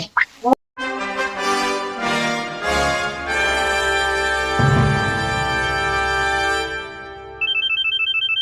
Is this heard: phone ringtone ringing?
yes